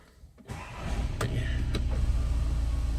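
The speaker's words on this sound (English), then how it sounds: "We'll just start the car up." A 2015 Seat Alhambra 2.0 TDI 184 diesel with DSG automatic cranks and catches, then settles into a steady low idle rumble close by, with a couple of brief clicks and knocks inside the cabin.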